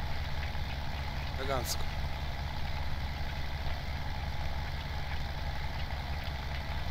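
Tractor engine idling in Farming Simulator 17, a steady low rumbling drone throughout, with a short chirpy effect near the start and someone speaking briefly over it.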